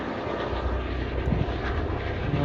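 An emergency service helicopter approaches a hospital in a German town to land, its rotor and engine making a loud, steady, broadband roar that continues without a break.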